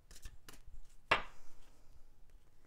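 Tarot cards shuffled and drawn for a reading, a few soft papery riffles followed by one sharp snap of a card, close and quiet with no talk.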